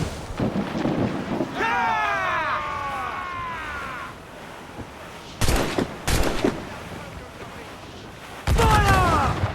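Ship cannons firing in Assassin's Creed IV Black Flag, several loud booming blasts in separate bursts, some doubled in quick succession, with shouted voices between the volleys.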